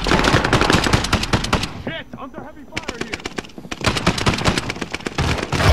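Rapid bursts of automatic gunfire in the video game Warzone on PC, with a short pause midway, loud and close, with a person's voice briefly heard in the lull.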